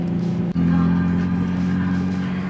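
A car driving straight on stretched tires that rub against the bumper, giving a steady low engine and road drone with a brief dropout early on, close and continuous throughout.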